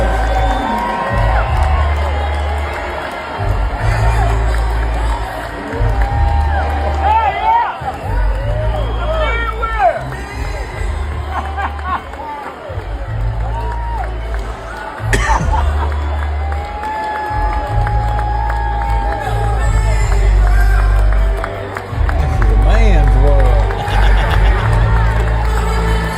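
A live concert crowd cheers, whoops and claps loudly throughout, with a pulsing low bass beat and babbling voices mixed into the sustained roar.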